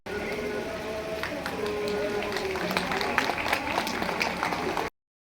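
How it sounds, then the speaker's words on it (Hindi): Audience applause welcoming a guest at a Mata Ramai Ambedkar birth anniversary event, a steady mass of clapping sustained for about five seconds with crowd noise underneath, then cutting off abruptly. "आयुष्मती तालियों से स्वागत।"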